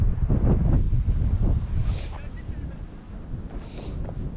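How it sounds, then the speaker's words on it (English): Gusty wind buffets the microphone at Tilbury Fort beside the river near a ferry terminal, a loud rushing roar that eases off toward the end, with faint sounds in the background. "It's quite a windy day today,"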